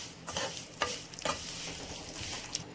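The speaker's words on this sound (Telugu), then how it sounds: "1/2 కిలో సేమియా తీసుకొని కూడా వేయించుకోవాలి." Half a kilo of vermicelli stirred and fried in ghee in a pan for payasam: a steady, soft sizzle with several scraping strokes of the spoon, close and moderately quiet, with no talk.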